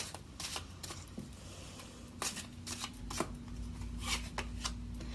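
A deck of tarot cards shuffled by hand in a quiet room, giving several bursts of riffling and slapping card sounds with short pauses between them, no talking.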